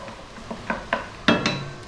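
Garlic stirred around a pan with a utensil, giving a handful of light scraping clinks at irregular intervals over a faint sizzle, close but fairly soft.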